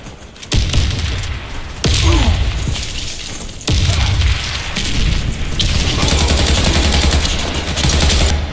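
Grenade explosions and gunfire in the Warface shooter game, with heavy booming blasts near 0.5, 1.8 and 3.7 seconds and sustained rapid fire after 5 seconds. All of it is loud and close, with sporadic voices.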